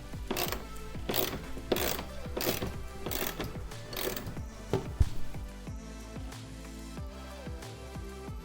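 A ratchet loosens 10 mm bolts on an Infiniti G37 front grille, giving several close, rhythmic bursts of rapid clicking followed by slower, scattered ratchet clicks and light metallic handling.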